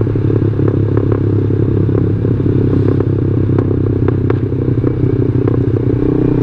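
Yamaha Jupiter MX motorcycle engine idling and surging unevenly on its own with no throttle input, a steady close rumble with rattling clatter, no talk.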